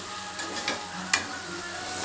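Chicken sengala curry sizzles gently in a pan over low heat while a spoon stirs it, with soft scraping and one sharp clink of utensil against the pan partway through.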